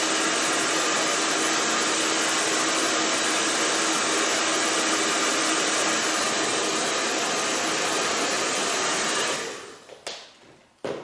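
A hair dryer blows on a Chinese landscape painting in progress, a loud steady close whoosh that cuts off near the end, followed by a couple of brief handling noises.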